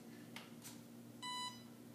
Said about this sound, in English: So I've plugged it in and the plane beeped.